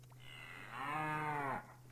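A cartoonish cow in the puzzle game Rusty Lake Paradise gives one drawn-out moo of about a second, clear and close over a steady low background hum.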